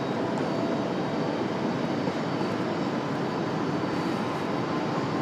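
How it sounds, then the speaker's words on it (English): A CRJ jet arrives at RDU airport with a loud, steady, broadband engine roar that fills the whole stretch without breaks. "Hopefully our CRJ going to come around through the trees here in just a minute"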